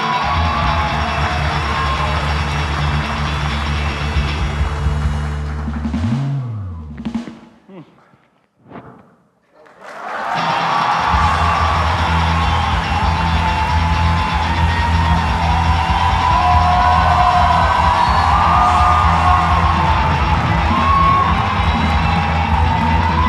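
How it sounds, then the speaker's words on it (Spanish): A loud live talk-show audience roars and cheers, briefly drops to near silence, then surges back into sustained cheering and clapping. "Un aplauso por tú."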